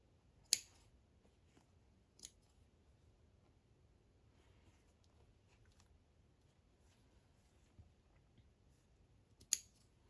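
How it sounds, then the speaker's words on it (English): Scissors run through embroidery stitches on a stitched sampler, checking for loose loops, giving a few sharp, isolated snips and clicks separated by long quiet stretches, close and fairly soft. "I just sort of run my scissors through and see where I can feel other loops"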